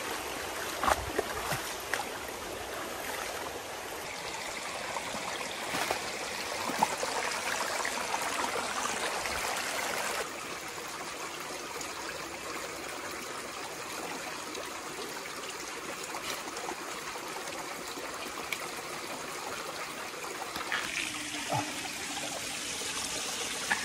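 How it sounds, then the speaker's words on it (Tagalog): Broad, steady rushing of a large river flowing through wild terrain, a continuous wash of water close by, with a brief shift in tone partway through and no voices. "nakakita na rin kami sa wakas ng malaking ilog"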